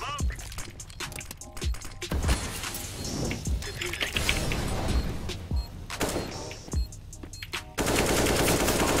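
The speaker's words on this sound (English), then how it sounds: "I was shooting through the smoke" Gunfire in a CS:GO match, with repeated sharp shots and rapid bursts spread across the clip amid other game noise, with voices talking over the shooting.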